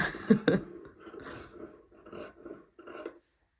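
Scissors trimming the fabric seam allowance of a dress, a handful of close, dry snipping and rasping cuts in an irregular rhythm, with no talk.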